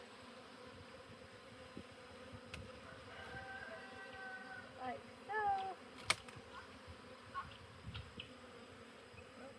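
Honey bees buzz in a low, steady drone close by at a homestead hive, with a few louder passes as individual bees fly near; a voice speaks briefly.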